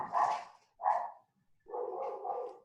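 Two dogs barking upstairs in a house, heard as a few muffled, indoor barks and yips in separate bursts, moderately faint and carried through from another floor, without talk over them.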